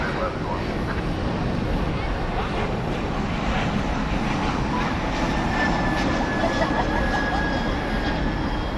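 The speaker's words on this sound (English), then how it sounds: "There's the 767 going to Louisville." A Boeing 767 jet at DFW Airport gives a steady, continuous engine roar at moderate distance, with a thin whine and people talking over it throughout.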